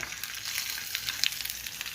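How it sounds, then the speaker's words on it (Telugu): Tempering seeds crackle and sizzle in hot oil, a busy high hiss with scattered little pops, close by and fairly quiet. "కొంచెం ఆయిల్ వేడెక్కిన తర్వాత కొన్ని పోపు గింజలు వేసుకోవాలి"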